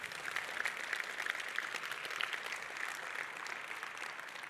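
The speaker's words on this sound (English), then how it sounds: "Give a round of applause for our players." An audience at a tech conference talk applauding the players after a live demo, steady mid-distance clapping from a sizable crowd, even and sustained without talk over it.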